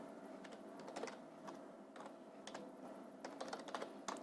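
Rapid, irregular keystrokes on a computer keyboard while a student enters HTML code, clicking in uneven bursts at close range with no talking.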